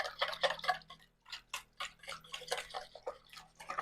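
Egg yolks being whisked with sweetener in a bowl for a keto custard, a rapid irregular series of light clicking, sloshing strokes, close and moderately quiet, with brief pauses between bursts.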